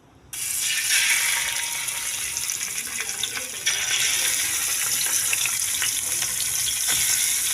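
Fish sizzles in already-hot oil for a fish curry, a steady loud crackling hiss that jumps in almost immediately and continues with bright spitting pops throughout, no talking over it.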